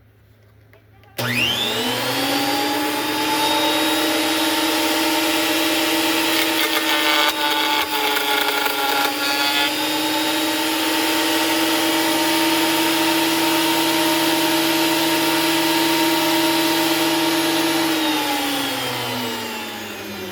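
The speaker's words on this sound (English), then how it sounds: "So I'm going to set this up and we'll start planing it down." A planer runs continuously while planing pine and walnut boards for cutting boards, starting abruptly with a loud steady harmonic whine and rumble and holding for about sixteen seconds before winding down.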